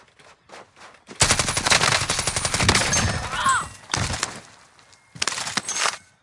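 Gunfire in Call of Duty Warzone, with a sniper in the fight: loud, rapid bursts of shots in a long dense volley, then two shorter clusters after brief gaps, with faint sparse pops before the main burst.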